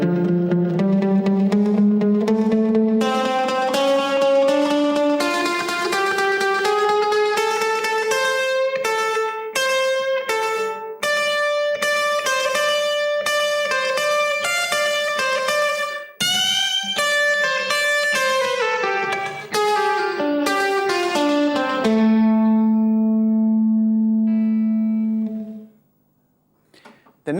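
Electric guitar playing a slow rockabilly solo, with bent notes, quick runs and sustained tones, loud and close, ending on a held note that fades out.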